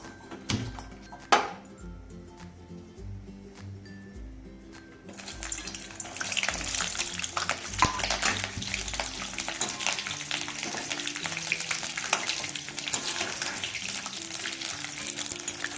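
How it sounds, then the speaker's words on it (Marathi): Green chillies frying in hot oil for upwas sabudana vada: a few sharp clatters at first, then a steady bubbling sizzle that grows louder and stays busy, close up and alone with no voices. "चला तर आता आपण मिरच्या तळून घेऊया।"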